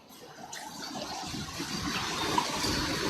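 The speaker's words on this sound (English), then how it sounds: "Here comes a big wave, dude." A big flood wave rushes in around a vehicle, rising into a loud, steady gush of turbulent water that builds and holds close by.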